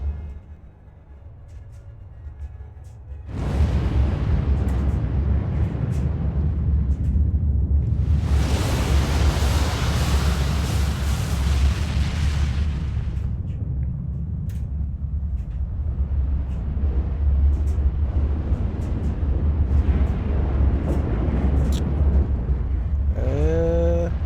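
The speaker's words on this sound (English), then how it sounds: "Big fireworks scene right there." Fireworks explosions in Final Fantasy XIV: a loud, dense roar of booming bursts and crackle that swells after a quiet start, with a brighter hissing stretch in the middle and a rumble that carries on to the end.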